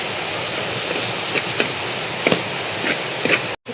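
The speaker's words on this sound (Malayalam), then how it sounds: "അപ്പോൾ മഴ നല്ലോണം പെയ്യുന്നുണ്ട് കേട്ടോ." Heavy rain pours down outdoors beside a kitchen where a curry with curry leaves and ground spice paste is being cooked, a steady dense hiss with a few sharper drop taps, then a brief break near the end.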